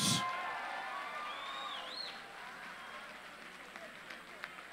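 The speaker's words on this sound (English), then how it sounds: "how about a round of applause for these two amazing fighters?" Crowd applause and cheering for two MMA fighters at the end of a bout, a distant, fading roar of clapping with scattered whoops that thins out over a few seconds.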